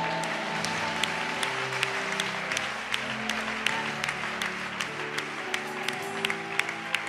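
A church congregation claps steadily to acclaim Jesus during a French-language worship service, the applause sounding sustained and moderately distant. Sharp individual claps stand out over a warm held tone of music or voices.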